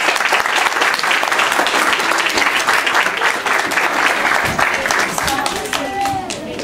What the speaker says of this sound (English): You've had a big clap.